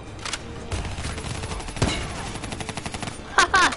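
Bursts of gunfire in a video game, with rapid shots fired in quick succession, a sharp crack near the middle and louder shots close at the end.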